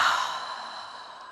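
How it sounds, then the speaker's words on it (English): A single forceful exhale through a wide open mouth during a running warm-up breathing drill, loud and breathy at first and tapering off over about a second. "wide open mouth, exhale."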